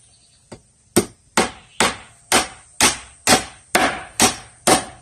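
Ten sharp blows from an old claw hammer on treated decking boards strike in a steady rhythm, roughly two per second, loud and close, each ringing briefly before the next.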